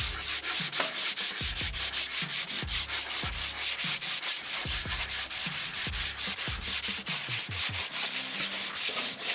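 Continuous coarse sanding of a wooden sofa with 80-grit sandpaper along the grain, quick repeated back-and-forth strokes in a steady rhythm, close and fairly loud with no talking.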